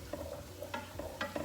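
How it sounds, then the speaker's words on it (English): Chopped mushrooms sizzle faintly in a pan while being stirred, with a soft continuous fry and a few light scraping ticks of the spoon. "Now I'm gonna add up my chopped mushrooms."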